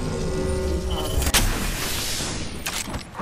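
Enemy gunfire in the battle royale game Apex Legends, a dense, loud rumble of shots and blasts that stays steady throughout, with a sharper crack near the middle and another burst toward the end.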